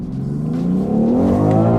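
A BMW X3 M SUV fitted with a JB4 tune accelerates hard. The loud engine note climbs steadily in pitch as it revs up without a break, with no talking over it.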